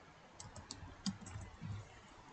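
A computer keyboard gives a few light, scattered keystrokes, faint and close over quiet room noise, as a search is typed for Python projects.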